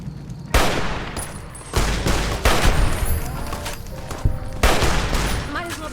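Bursts of gunfire during a fight in Fallout New Vegas, several loud rapid volleys separated by short gaps, with some voice audible underneath.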